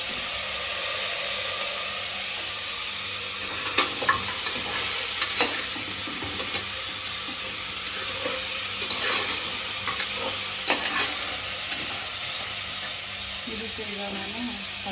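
Ginger garlic paste sizzles and fries in a pan, a steady hiss broken by scraping stirs and occasional clinks of a spoon against the metal.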